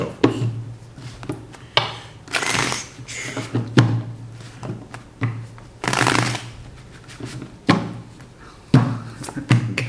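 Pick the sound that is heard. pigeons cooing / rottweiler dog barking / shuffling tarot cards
shuffling tarot cards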